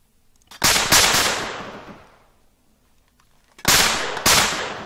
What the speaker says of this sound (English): Is that us shooting?